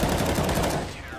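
Dense, rapid automatic gunfire from Counter-Strike: Global Offensive, loud and close, a continuous burst of overlapping shots that thins out toward the end.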